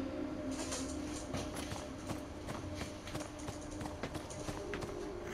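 Horse hooves clip-clopping at a steady walking rhythm as a player rides in the video game Beyond: Two Souls, with scattered sharp hoof strikes over a constant background bed of game ambience.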